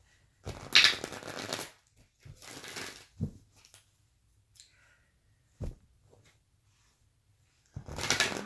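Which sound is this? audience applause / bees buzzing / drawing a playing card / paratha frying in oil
drawing a playing card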